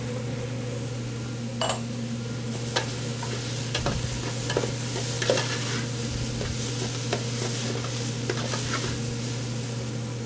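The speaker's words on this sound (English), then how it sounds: "at the end of the sauteing, I like to put the garlic in there for only about 30 seconds" Garlic sautés in a chili pot under a steady low hum, with a soft continuous sizzle broken by occasional scrapes and clicks of a utensil stirring, no voices present.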